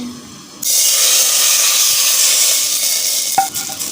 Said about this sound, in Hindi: अब इसमें डालेंगे हम तड़का